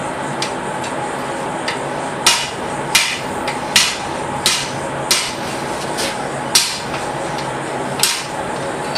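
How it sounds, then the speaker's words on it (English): A blacksmith hammers hot metal on an anvil, spreading a cut end into a Y shape: sharp ringing hammer blows land at a steady, slightly uneven pace of roughly one every three-quarters of a second, close and clear over faint shop background. "I'm just going to spread it out to be like a Y using the anvil."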